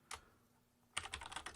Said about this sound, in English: I'm just typing in some gobbledygook to give us some context here